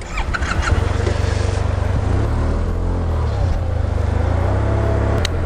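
A two-wheeler's smooth, flexible engine drones steadily while riding through road traffic near a roundabout, a loud, continuous low hum with passing vehicle noise around it.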